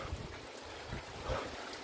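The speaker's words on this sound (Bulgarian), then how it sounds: "за да не ги отвее вятъра, защото вятъра е силен" Strong wind buffeting the microphone, a steady broadband roar with low gusty thumps, no voices.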